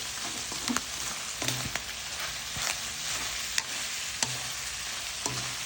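Broth reducing in a pan until it fries in its own oil gives a steady hiss and sizzle, with occasional stirring scrapes and clinks.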